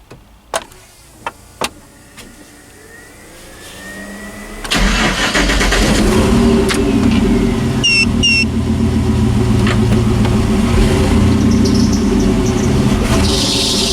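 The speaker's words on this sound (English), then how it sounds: "Ah, my belt's making noise." A few clicks, then a turbocharged 5.3 LS engine in a Chevrolet Silverado cranks and roars to life, settling into a loud, rough idle with a high-pitched belt squeal chirping on top.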